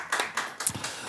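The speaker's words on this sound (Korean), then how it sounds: "하나님 앞에 감사의 박수를 드리겠습니다" A church congregation at a Sunday service in Chicago claps in thanks, a brief burst of scattered hand claps, close and lively, fading after about a second.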